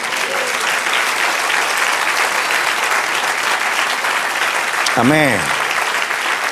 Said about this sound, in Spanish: Del otro aplauso al Señor.